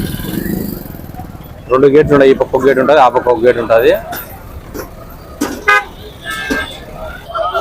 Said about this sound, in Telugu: రోడ్డు వెడల్పు చేస్తున్నారు కాబట్టి ఇది పక్క ట్రాఫిక్ అంతా ఎక్కువ ఉంటుంది.